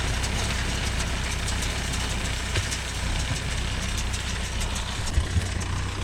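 A Mahindra Yuvo Tech Plus 585 4WD tractor engine runs steadily close by, a continuous low diesel rumble at an even idle-like pace with no speech.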